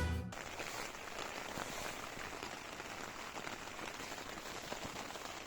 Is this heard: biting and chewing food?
no